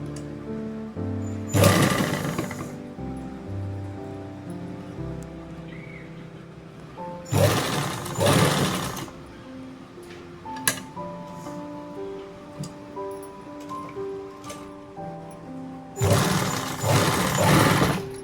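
A sewing machine stitches down the folded armhole edge of a kurti in three separate bursts of rapid, whirring stitching, close and fairly loud, with quieter pauses and background music between runs.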